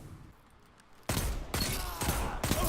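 Better Devils hand cannon firing in Destiny 2, three loud, sharp shots spaced about half a second apart after a quiet start.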